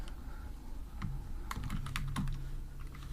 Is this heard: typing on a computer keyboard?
yes